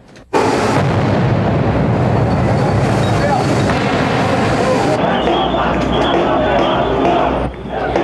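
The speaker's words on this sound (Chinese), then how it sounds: "街上爆炸声此起彼落" A street protest where grenades, tear gas and fireworks go off: a sudden loud blast opens a sustained, dense roar of explosions and crowd noise that shifts partway through and stays close and loud throughout.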